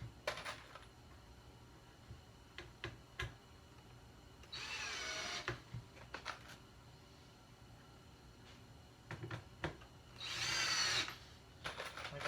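A power drill drives screws with a star bit into wood while building bar stools, two loud sustained whirring bursts several seconds apart, with scattered light clicks and handling taps in between.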